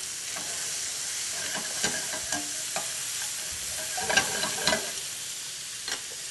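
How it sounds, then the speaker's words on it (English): Shrimp sizzles steadily in a frying pan, with scattered scraping clicks and soft knocks as the pieces are turned and tossed, close by and with no talking. "we'll go ahead and turn the shrimp over and get them tossed up"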